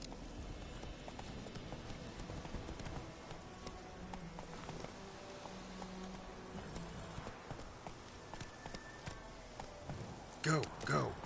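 Geralt's horse Roach in Witcher 3 gallops with a steady, fairly faint clip-clop of hooves. A voice speaks over it, and a louder burst comes near the end.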